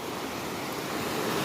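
A river running high and fast with snow melt and rain in Southern California, a dense continuous roar of rushing water, loud and close with no other sounds.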